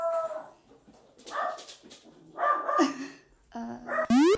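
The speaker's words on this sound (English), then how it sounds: "every time somebody just walks by my house having a nice walk, my dog acts like the apocalypse is coming" A dog barks at someone passing by in a run of yips, whines and howling barks, with a sharp rising cry at the end, close and loud with no talking.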